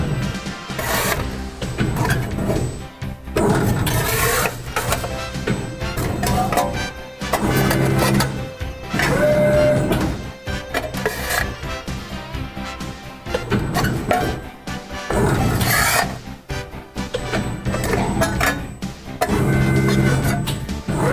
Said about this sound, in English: So as we bend the part and come out, curtain sees that we're out, and it's automatically positioning the ram and the back gauge to this position.